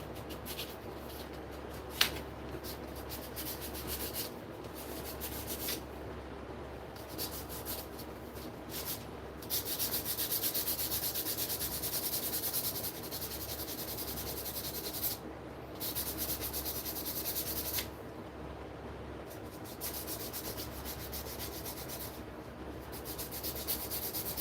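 A wooden piece being sanded by hand, with steady rubbing and scraping strokes that carry on through the whole stretch, close and fairly quiet, with no talk.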